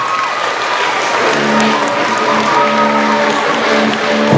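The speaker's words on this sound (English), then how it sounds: "can we give one big round of applause for our Queen Bee" A crowd gives loud, sustained applause for Mrs. Rexroad, a dense, even roar of clapping from many people that continues for several seconds, with a faint tone running underneath.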